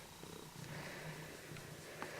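A cat purring close by, a soft low rumbling pulse that runs steadily throughout, fairly quiet with faint background noise.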